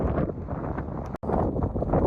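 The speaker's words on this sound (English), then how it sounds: "it is windy out here today" Strong gusts of wind buffet the microphone among sand dunes at White Sands in a continuous low roar, with a brief dropout midway and no talking.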